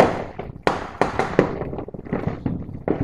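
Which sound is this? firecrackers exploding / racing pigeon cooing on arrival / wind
firecrackers exploding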